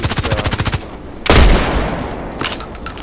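Machine gun fire in the online shooter Contract Wars: a fast burst of rapid shots, then a loud boom with a decaying tail and a few scattered shots near the end.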